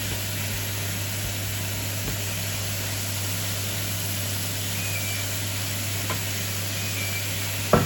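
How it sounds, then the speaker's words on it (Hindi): Minced meat (keema) fries in a pan with a steady, continuous sizzle that holds evenly throughout, with no voices over it. "अब इस स्टेज पे मैं इसके अंदर कीमा डाल दूँगी। तो कीमे को हम इसके अंदर भून लेंगे।"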